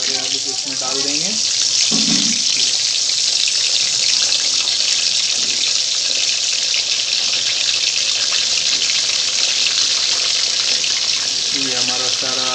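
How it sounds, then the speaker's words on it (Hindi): Potatoes frying in hot oil for chicken biryani, a steady loud sizzle and hiss throughout, with a few brief higher tones near the start and end. "तेल हमारा गर्म हो चुका है। धीरे धीरे करके हम अपने सारे आलू को इसमें डाल देंगे।"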